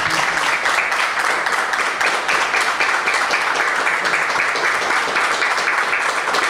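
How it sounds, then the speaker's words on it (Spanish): Sustained applause for Daniel Buglione at a Huracán club broadcast, a loud, steady wash of many hands clapping close by that continues evenly without letup. "Te agradecemos y te aplaudimos."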